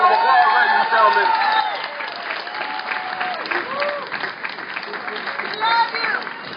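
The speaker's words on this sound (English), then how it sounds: "Give a round of applause, ladies and gentlemen" Rally crowd at a Trayvon Martin gathering in Portland applauds and cheers for organizer Miss Mary, loud clapping swelling then settling, with voices calling out over it.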